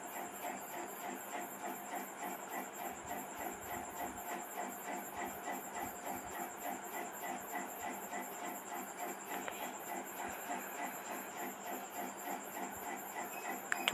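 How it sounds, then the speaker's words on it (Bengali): Stuffing for teasel gourd frying in hot oil in a kadai, giving a steady close sizzle with dense crackling and spitting that holds for the whole stretch, with no voices. "তো আমার মোটামুটি ভাজা ভাজা হচ্ছে।"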